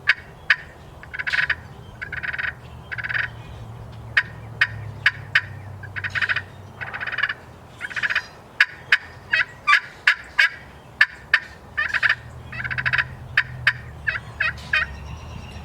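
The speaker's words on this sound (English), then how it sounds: "Some clucks and purrs." Clucks and purrs worked on a homemade turkey pot call with a Purple Heart wood striker, short sharp clucks scattered among rolling purr bursts, close and clear with no talking.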